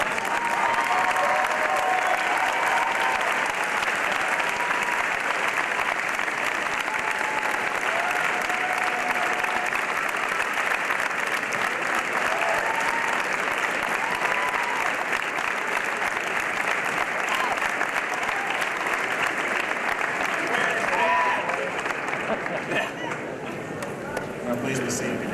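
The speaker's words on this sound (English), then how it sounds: "show your gratitude by a round of applause" Graduation ceremony audience applauding their parents, sustained dense clapping from a large crowd that runs on for about twenty-five seconds, tapering slightly near the end, with some voices mixed in.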